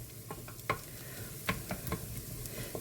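Miso garlic sauce stirred in a pan: a low continuous sizzle with a few soft utensil taps and scrapes, quiet and close, no talking.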